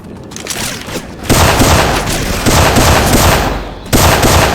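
Syphon Filter weapon sound effects in a Left 4 Dead 2 game: loud, sustained bursts of rapid gunfire, with a sharp jump in intensity partway through and again near the end. No voices.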